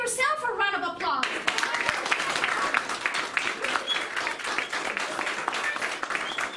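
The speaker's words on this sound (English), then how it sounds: "let's give yourself a round of applause." An audience at a community college learning center gives a round of applause, dense steady clapping that starts after a brief bit of speech and carries on loudly to the end.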